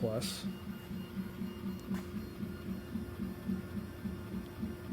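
A Ratrig V-Core 3.1 3D printer runs a multi-material print with a 0.4 mm nozzle, giving a faint steady stepper-motor hum with rhythmic low warbling tones, quiet and continuous, with a brief clunk early on.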